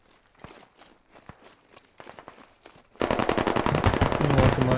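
Machine gun fire sounds in the video game Squad. Scattered shots and footsteps come first, then a loud, sustained burst of rapid automatic fire fills the second half.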